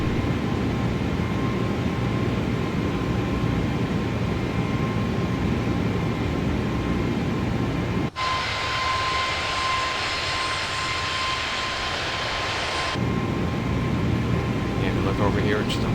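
Steady roar of Airbus A320neo engines during the climb in Microsoft Flight Simulator 2024, a continuous drone whose tone shifts abruptly midway and later returns.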